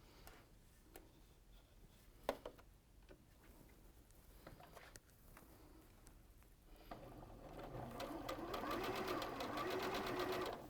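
A sewing machine stitches a straight line across fabric. Quiet handling clicks and taps come first, then a steady, close, rapid mechanical stitching rhythm starts and runs to the end.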